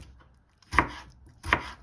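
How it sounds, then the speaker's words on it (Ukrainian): Two crisp knife chops on a cutting board, roughly three-quarters of a second apart, as tomatoes are cut into cubes, close and clear in an otherwise quiet kitchen. "І нарізаємо помідору. Я взяла дві штуки. Теж кубиками."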